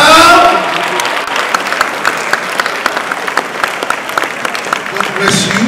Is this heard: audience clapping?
yes